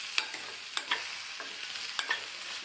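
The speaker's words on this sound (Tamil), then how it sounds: "இதை இது மேலே சேர்த்துட்டு நல்லா ஒரு தடவை மிக்ஸ் பண்ணி விட்டுருங்க" Baby potatoes with crushed garlic are stirred in a pan over a light sizzle, with several soft scrapes and taps of the spoon against the pan coming at an uneven pace, close and fairly quiet.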